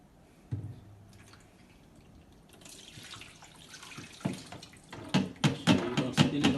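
Water drips from a defrosting mini fridge, sounding as scattered, faint drops that grow more frequent and louder toward the end.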